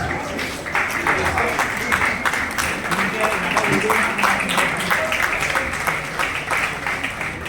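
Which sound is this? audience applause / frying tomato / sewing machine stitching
audience applause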